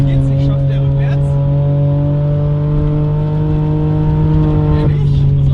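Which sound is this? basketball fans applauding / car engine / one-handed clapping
car engine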